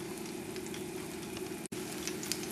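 A turkey cutlet fries in a pan over a moderate flame with a steady, close sizzle and fine crackling pops that carry on evenly, broken once by a split-second dropout, with no voices.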